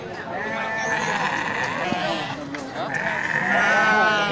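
Sheep bleat at an Indonesian livestock market where rams and ewes are being priced, giving repeated wavering bleats close by over crowd noise, and someone talks throughout in Indonesian.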